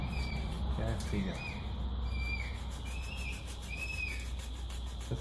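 A neighbour's pet bird makes chirping, whistling calls that mimic children, heard at moderate distance over a steady background hum with a few faint bursts.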